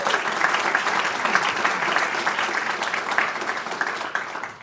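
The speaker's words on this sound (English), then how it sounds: "I think that deserves a round of applause." A large audience at a college district event celebrating bachelor's programs bursts into sustained applause, a thick, even roar of clapping that stays loud for nearly five seconds before starting to thin out at the end.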